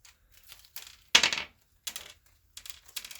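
Small plastic packages of Traxxas 17mm wheel adapter parts are torn open in a few crisp rustling bursts, one louder rip near the middle, recorded close with quiet gaps between.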